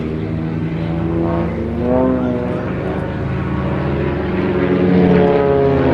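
Propeller-driven XA42 aerobatic aircraft pulling up into a loop at an air display, a loud, steady engine drone with rising and falling harmonic pitch as it passes, swelling slightly near the end.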